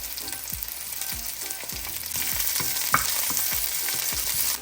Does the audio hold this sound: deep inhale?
no